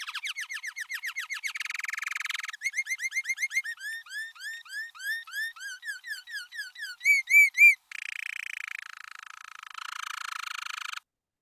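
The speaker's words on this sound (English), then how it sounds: "this particular bird sang a song that sounded like this" A recorded canary sings a long, bright song of rapid repeated chirps, trills and whistled phrases, each syllable type repeated in quick runs before switching, loud and clean with no other sounds.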